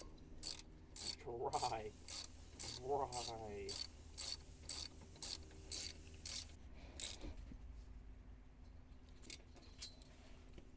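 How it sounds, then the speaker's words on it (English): Ratchet tightening a 12 mm brake line bolt into the back of a Brembo caliper on an Acura RSX Type S: repeated quick clicking strokes in several bursts, close and clear, with brief metallic rattles and one short spoken word. "it is a 12 millimeter to torque it down"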